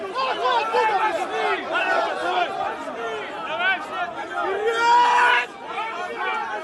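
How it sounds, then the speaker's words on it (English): A big crowd of rioters in Abkhazia, many voices shouting and chattering at once in a loud, dense hubbub with rising yells. "It's a big crowd too."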